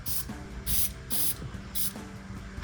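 Four short bursts of aerosol spray hiss onto the rubber insulators of exhaust hangers on a Challenger, each lasting about a quarter second, close and clear with quiet gaps between them.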